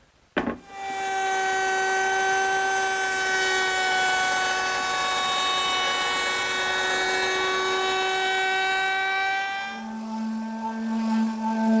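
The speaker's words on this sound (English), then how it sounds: "I'm going to have to use my router table, which is set up with the same router bit" A router table cuts along a board edge guided by a fence, a loud steady high-pitched whine with a strong tone that holds for about nine seconds before dropping to a lower hum.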